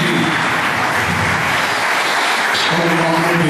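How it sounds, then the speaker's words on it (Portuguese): A church congregation claps hands in loud, dense, sustained applause that fills the room continuously from start to finish, with a faint voice briefly surfacing near the end. "Aplaude a Deus bem forte."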